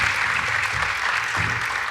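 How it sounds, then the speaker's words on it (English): Audience applauding the candidates at the close of a 2023 Coral Gables candidate debate, a steady, even round of clapping from a room of people, fairly close and full. "Please give them a round of applause."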